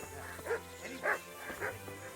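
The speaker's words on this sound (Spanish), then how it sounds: "aquí están los perros divirtiéndose entre ellos" Dogs in the video game Kingdom Come: Deliverance bark and yip while playing, several short soft barks in quick succession over a quiet background hum.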